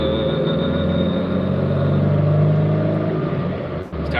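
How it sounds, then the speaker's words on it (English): A car engine runs close by with a steady, vibrating drone and rumble that holds level for several seconds before a brief dip at the end. "Boy, this car vibrates like a bitch, Josh."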